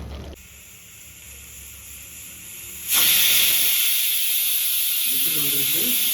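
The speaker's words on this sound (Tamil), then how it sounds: "இப்போது குக்கரை மூடிட்டு ஒரு விசிலுக்காக வெயிட் பண்ண போகிறோம்" A pressure cooker hissing steam while vegetable biryani cooks, with a quieter hiss that suddenly swells into a loud, sustained rush of escaping steam.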